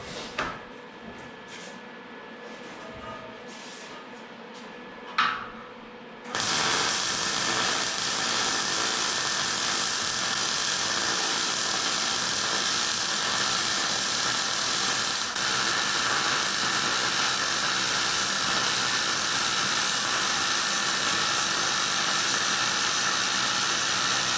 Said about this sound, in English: I guess I can weld those up.